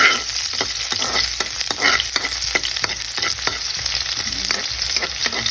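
Cooking oil sizzles in a hot pan, a dense crackling hiss broken by repeated sharp scraping strokes of a utensil, close and loud, with no voices.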